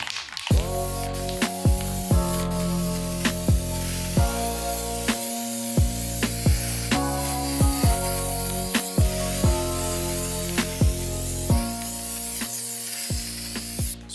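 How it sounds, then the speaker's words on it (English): A steady aerosol spray hiss from a spray can painting rusty rims on a 1995 Toyota Celica runs through the whole stretch, partly buried under background music with shifting chords. "Let's start spraying and see how it goes"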